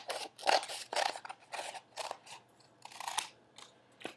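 Scissors cut a circular base for a homemade fluffy Christmas tree, a series of crisp close snips and crunching cuts in an irregular rhythm, with short pauses between strokes.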